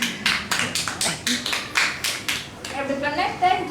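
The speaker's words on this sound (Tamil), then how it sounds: "ஸ்ரேயா அவர்களுக்கு பலத்த கரகோஷங்கள் எழுப்புங்கள்" An audience applauds a girl's Thirukkural recitation with a run of crisp, evenly spaced claps close by, then the clapping thins as a voice begins speaking.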